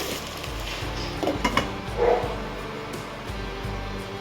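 Spiny gourd (boda kakarakaya) frying in plenty of oil is stirred in a pan, with a few scraping, clattering utensil knocks against the pan over a steady sizzle, close and moderately loud.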